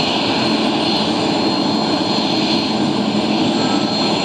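Jet airliner engines roar steadily at JFK airport, a loud, unbroken broadband rumble and whine with no pauses or voices.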